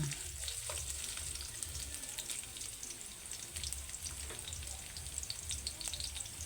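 Ginger frying and browning in a pan for chicken curry sizzles with a steady, close crackle, soft scattered pops and a faint low hum underneath.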